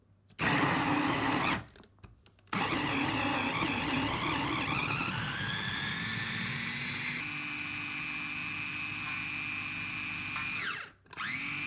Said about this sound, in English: Here I use a blender. Blend it thoroughly.